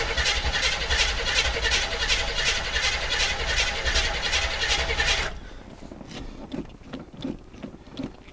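A 1981 Chevrolet Blazer engine cold starts with a loud, rhythmic cranking and roaring churn for about five seconds, then drops into a quieter, uneven idle with faint knocks.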